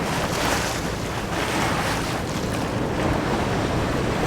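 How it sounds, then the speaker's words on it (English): Ocean waves wash steadily around a sailboat entering a harbour, a continuous broad surf roar mixed with wind noise on the microphone and no voices. "Those are some waves as we enter."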